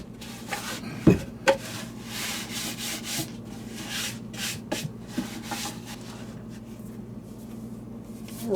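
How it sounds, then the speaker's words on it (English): Soft, close rubbing and brushing as dust is wiped off a wooden beehive box, a gentle continuous scrubbing texture with a couple of light knocks early on, under a steady low hum. "We'll start with this box to get the dust out of it."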